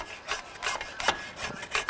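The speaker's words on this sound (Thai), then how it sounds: "การตอนเนี่ยนะคะใช้เลื่อยเหล็กตัดตรงข้อ" A hacksaw cuts into a bamboo stem at the node to prepare it for air layering. Quick, rhythmic rasping strokes repeat about seven times, close and alone with no talk.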